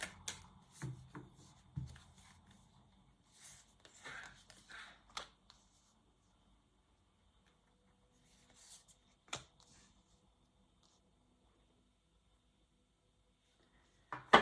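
Tarot cards are shuffled by hand in a few quiet, close bursts of riffling and rubbing, separated by long silent pauses and a couple of sharp taps.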